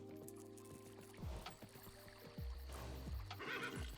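A horse in the video game Kingdom: New Land gives several whinnies over a soft, steady game backdrop, with stepped tonal calls that break off and restart in quick succession.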